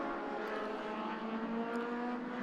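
Race cars at an Irish Championship circuit round roar past in a continuous, loud engine drone with a steady tonal whine, sustained throughout without a pause.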